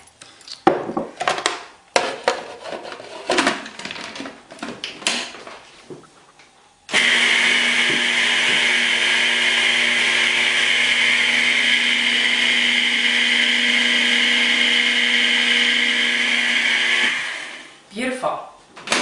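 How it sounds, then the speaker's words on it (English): A kitchen blender whirs loud and steady for about ten seconds, grinding almonds and oats into oat flour, after people talk and handle things nearby, then winds down to a stop. "1 cup of almonds, 1 cup of oats. And why don't you blend them now?"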